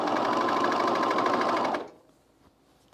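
Sewing machine running steadily as a sleeve is set flat into the shoulder of a men's fleece pullover, a loud continuous close-up whir that stops abruptly partway through, leaving near silence.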